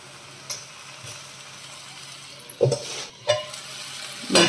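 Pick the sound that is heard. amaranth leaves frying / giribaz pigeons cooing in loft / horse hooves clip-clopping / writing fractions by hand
amaranth leaves frying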